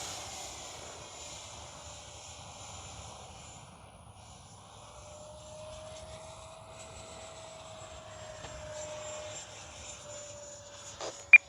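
HobbyKing FlyCat V2 RC jet plane in flight on a hot day, a faint, steady distant whine that shifts slowly in pitch, ending with a couple of sharp clicks up close.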